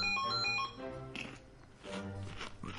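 A phone rings indoors, a short bright tonal ringtone at the start, then fades under thuds and movement.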